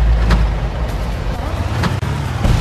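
A car drives through a swamp in Far Cry, its engine a loud, steady rumble heard up close with a few brief clunks, and voices occasionally over it.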